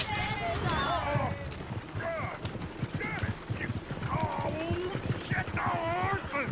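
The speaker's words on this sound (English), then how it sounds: "Get the horses! Damn horses!" Horses in the video game Red Dead Redemption 2, with busy hoof clip-clops and occasional whinnies mixed among shouting voices and dense game ambience throughout.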